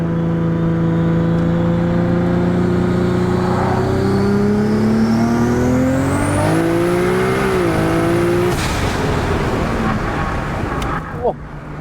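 An 1100 hp Nissan Skyline GTR with an 8-speed transmission, AWD and a 9000 rpm limit, driven on the street: the engine screams under boost with rising pitch, then cuts hard on an upshift, up close and loud throughout.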